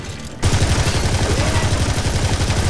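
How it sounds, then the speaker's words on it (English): Heavy, rapid automatic gunfire in the video game Deep Black Reloaded bursts in abruptly and keeps up a loud, close, fast stuttering rhythm of shots with no pauses. "I'm under heavy fire!"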